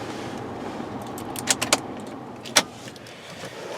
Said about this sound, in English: Now let's go ahead and shut the car off.